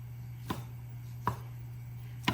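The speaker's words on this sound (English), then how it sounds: "next we're going to cut up our sausage" A knife chopping through sausage on a cutting board, three separate sharp knocks spaced about a second apart over a steady low hum, close and fairly quiet, for a homemade paella with shrimp.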